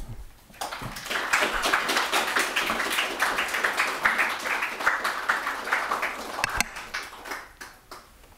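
Audience applauding after a Sicilian poetry reading, a dense sustained clapping from a room full of people that fades out near the end.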